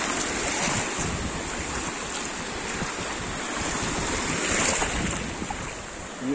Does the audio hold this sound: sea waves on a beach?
yes